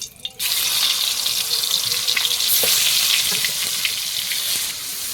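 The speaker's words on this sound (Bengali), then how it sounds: "তেলটা একটু ছড়িয়ে দিই চারি সাইডে মাছগুলো দিয়ে দেবো" River fish sizzling as it goes into hot spread oil in a pan, a loud steady frying hiss that starts abruptly and holds for several seconds.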